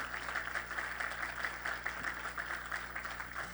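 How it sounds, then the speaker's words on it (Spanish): A church congregation applauds during a sermon, a faint, steady patter of many hands clapping continuously without a break, heard from a distance with a low hum underneath. "le da un aplauso al Señor en esta hora"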